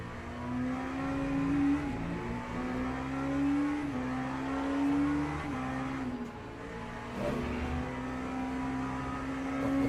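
An LMP2 prototype race car in a European Le Mans Series racing game runs with a steady, close engine drone whose pitch climbs and dips through gear changes over a low rumble, with no talking.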